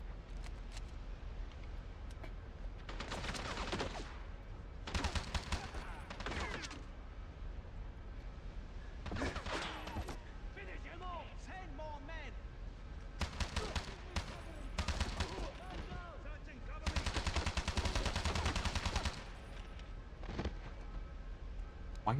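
Gunfire from the video game 007 Bloodstone, bursts of rapid shots at several points that stand out over a continuous game soundscape of background effects.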